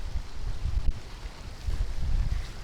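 Low, rumbling wind blowing down a mountain valley near the Gergeti Glacier in the Caucasus, above 3300 metres, buffets the microphone in steady gusts, swelling and easing with no voices.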